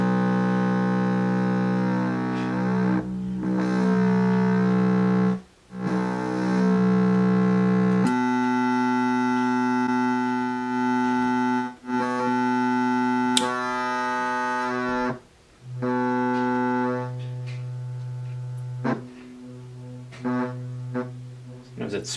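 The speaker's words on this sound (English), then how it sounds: "Just a sine wave." A steady electronic sine-wave tone from a Eurorack tube VCA synth module hums with rich harmonics, shifting in pitch and timbre a few times, with brief dropouts between sustained notes.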